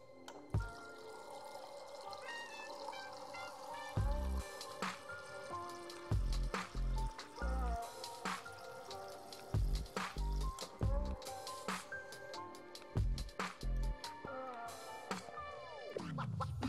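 Water is poured into a vessel in a home, with a rising trickle toward the end, surrounded by scraping, tapping and handling sounds in steady, close, moderately quiet bursts.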